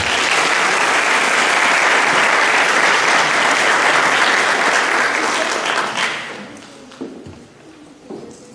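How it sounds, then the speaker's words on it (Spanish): Sustained applause from an auditorium audience at a Colombian forestry students' congress, dense and steady for about six seconds before thinning into a few scattered claps and faint shuffling. "Un aplauso, por favor."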